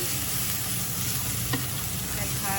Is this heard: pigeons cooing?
no